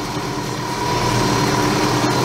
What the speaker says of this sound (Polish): Ciągnik musi się rozgrzać jeszcze powoli, ponieważ stał całą noc.